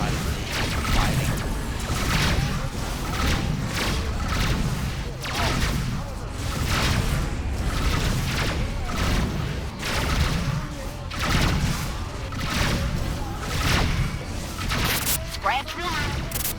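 Broadside cannon fire from a ship in the space game Rebel Galaxy: repeated booming volleys and bursts of gunfire in a dense, continuous barrage, with a person talking over it.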